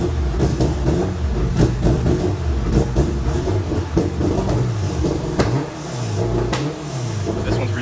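A loud 1000-horsepower turbocharged Honda K-Series engine in an all-wheel-drive minivan with a sequential drivetrain revs hard nearby, the engine note climbing and dropping repeatedly with sharp crackles and pops between revs.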